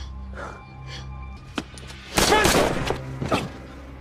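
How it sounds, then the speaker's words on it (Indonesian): Gunshots ring out during a shootout in the film Miss Bala (2019), a loud cluster of sharp cracks midway followed by another shot, with faint voices and a low background hum. "ia pun menembak Lino karena Lino juga hampir menembak dirinya"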